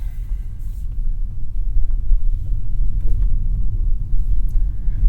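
A 2021 Volvo S90 T8 Recharge plug-in hybrid drives off in B regen mode, giving a steady low rumble of road and cabin noise with no speech.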